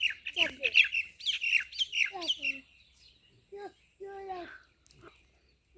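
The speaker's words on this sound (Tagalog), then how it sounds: "Tingnan niyo yung ibon sa mayero." Harsh bird squawks and chirps repeat in quick bursts, loud and close, then a few scattered calls follow after a short pause.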